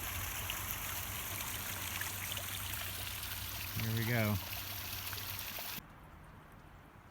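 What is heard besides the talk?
small waterfall trickling on a trail in Acadia National Park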